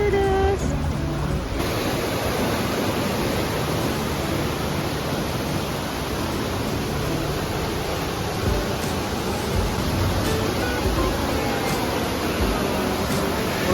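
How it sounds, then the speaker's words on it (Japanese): A mountain stream flows through Oirase Gorge in Aomori, a steady broadband rushing of water heard close and continuous, with no pause for the whole stretch and faint wind-like noise mixed in. "静かに静かに川が流れています。 渓流です。"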